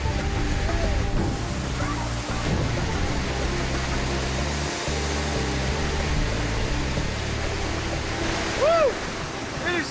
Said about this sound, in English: It is so forceful underneath that waterfall